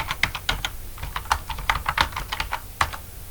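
Typing on a computer keyboard, quick irregular bursts of close, crisp key clicks with brief pauses, no voices.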